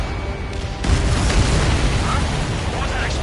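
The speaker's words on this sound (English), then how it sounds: "What was that explosion?" Explosion in a PS4 video game, a dense rumbling blast that swells after a short moment and rolls on with noisy debris and mechanical din, under game voices.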